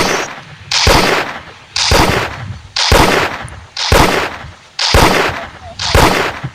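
Pistol gunshots from the cameraman unit in the Roblox game Toilet Tower Defense, seven loud, evenly spaced bursts of about one per second, each with a sharp crack and short decay, heard alone.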